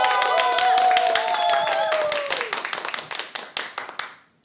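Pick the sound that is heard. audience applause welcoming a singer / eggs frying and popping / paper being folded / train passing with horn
audience applause welcoming a singer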